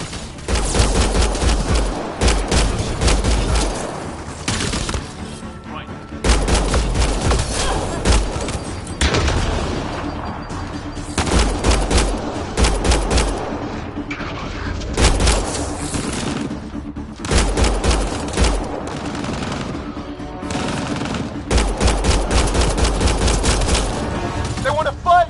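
Gunfire in the video game Mass Effect Andromeda: sustained loud bursts of rapid shots and fusillades with booming impacts, nearly continuous with short pauses, and voices talking amid the shooting.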